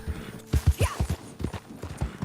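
Horse in Red Dead Redemption 2 galloping in quick, uneven hoofbeat thumps, close and fairly loud, with a brief whinny-like cry partway through and no talking.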